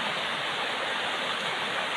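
Clear river water in a West Java village flows with a steady, even rushing hiss, close and continuous with no voices over it.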